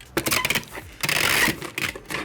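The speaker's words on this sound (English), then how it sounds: "I fold the flaps and then tape it." Cardboard box flaps being folded and packing tape pulled and pressed on at a small warehouse packing station, a quick run of close, crackly rustles and rasping tape strips in short bursts.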